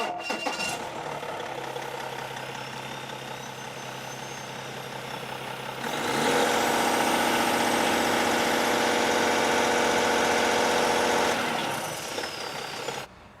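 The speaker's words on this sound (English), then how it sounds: "So let's fire up the engine and see what we can do." A diesel truck engine on an aftertreatment test setup fitted with selective catalytic reduction and sensors idles steadily, then revs up to a louder, fuller run near the middle and settles back down, close and continuous with no talk.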